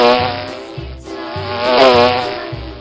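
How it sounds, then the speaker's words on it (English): A bee buzzes in a steady, close, droning hum that wavers slightly in pitch over a few seconds. "Bee."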